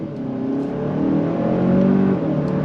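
A 2025 Kia K5 GT turbo sport sedan accelerates hard, its engine note rising steadily and loud from inside the cabin, with quick dual-clutch gear changes breaking up the climbing drone.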